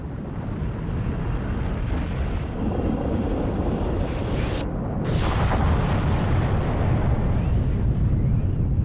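A supervolcano eruption explosion near Naples and Pozzuoli rendered as a continuous, loud, deep roar that rumbles steadily throughout with a brief cut in the middle, with no voices.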